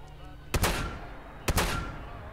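Two loud gunshots fired in the video game Fallout 4, about a second apart, each a sharp crack with a short rumbling tail and no talking over them.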